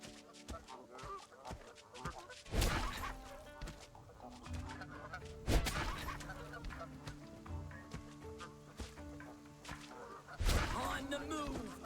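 Chickens in the video game Corepunk cluck and squawk near Tordal Iron Vein, with three loud bursts roughly every three seconds over a steady bed of game sounds and music, with speech heard at times.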